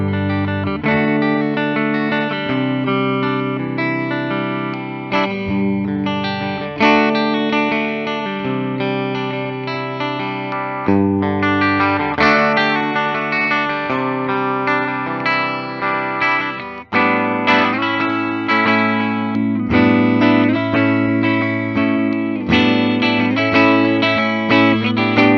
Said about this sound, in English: Let's just get some more basic strumming chords, starting with our neck pickup.